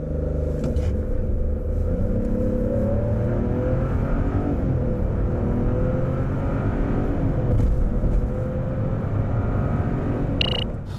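A Chevrolet Malibu 1.35 E-Turbo accelerates hard from a standstill, its engine and tyre rumble a steady, loud drone that builds smoothly throughout with no talking over it.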